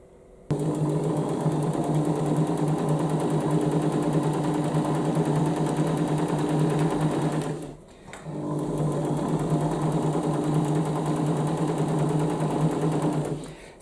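A sewing machine runs in a fast, steady mechanical chatter, stitching continuously at close range, with one brief pause near the middle before it starts again.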